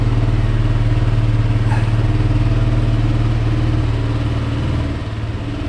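A classic motorcycle engine running just after its first start of the year, a steady, close, throbbing idle with a clattery edge that dips slightly near the end, no voices.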